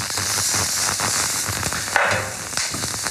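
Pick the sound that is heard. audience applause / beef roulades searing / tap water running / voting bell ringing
beef roulades searing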